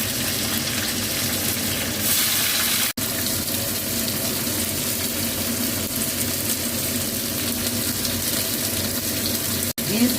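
Green beans frying in oil tempered with nigella seeds, a dense, loud, continuous hiss close up that runs throughout with two brief dropouts.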